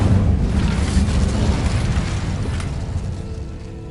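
The Incendio fire spell blasts in Hogwarts Legacy, a loud, broad roaring burst of flame that rumbles steadily and slowly fades over several seconds.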